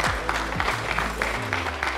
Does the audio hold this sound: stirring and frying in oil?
no